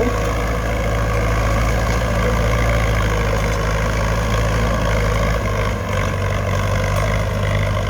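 Ford 6600 farm tractor engine running steadily with a deep, even diesel drone and low rumble, loud and close, no voices over it.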